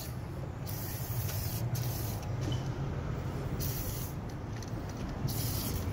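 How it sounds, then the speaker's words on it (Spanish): WD-40 hisses out of a spray can onto a car engine being cleaned, a steady close spray in several bursts with brief gaps between them and no talking. "le puede echar un poco más de W40, dejarlo ahí"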